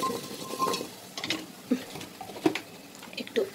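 Food seasoned with turmeric and salt stirred in a pan, a few soft scraping strokes and light clinks of a spoon against metal, intermittent and close, with quiet background noise.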